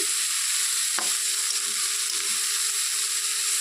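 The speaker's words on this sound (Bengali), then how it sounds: "দু মিনিট পরে তো একটু নেড়ে চেড়ে দিচ্ছি" Bitter gourd sizzles steadily in a pan, a constant close hiss with one brief knock of a spoon as it is stirred.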